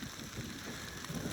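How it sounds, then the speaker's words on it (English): Monsoon rain falls steadily on a desert garden in Arivaca, Arizona, in the Sonoran Desert, a soft continuous patter of drops at low volume with no voices. "it is raining again here"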